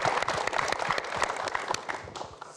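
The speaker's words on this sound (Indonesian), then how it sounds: "Boleh kita beri tepuk tangan dong" A live studio audience at a pre-dawn Ramadan show applauds steadily, with dense, even clapping that slowly fades over a few seconds and no talking over it.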